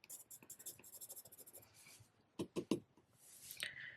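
Pencil scratching and rubbing across card paper in short repeated strokes while colouring a bird's wings, tail and head, close and faint, with a few firmer taps near the end.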